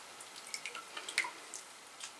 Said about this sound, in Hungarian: Friss csapvízzel locsoljunk